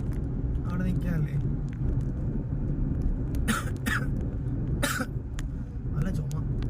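Several sharp coughs burst out close to the microphone, a pair in quick succession followed by another a moment later, over a constant low rumble of a car in motion.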